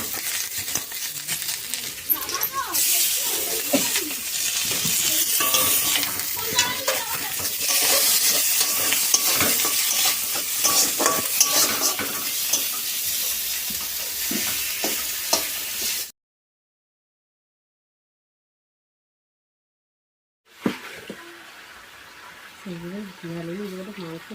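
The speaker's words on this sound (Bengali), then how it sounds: "মাছের ঝোলটা এদিকে রান্না করছি, পেঁয়াজ রসুন দিয়ে দিয়েছি, এবারে দিয়ে দিলাম আদা বাটা" Onion, garlic and ginger paste frying in oil for a fish curry, a loud, continuous sizzle with spatula scraping and stirring close by, cutting off into silence before a voice talks over a quieter sizzle.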